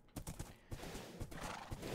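A horse in the video game Minecraft whinnies, and its hooves clop in an uneven rhythm. The sounds come through faint and steady, with no talk over them.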